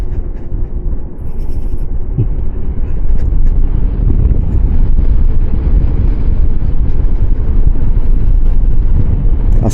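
Strong, cold wind on a mountain road buffets the microphone with a loud, continuous low rumble that persists throughout.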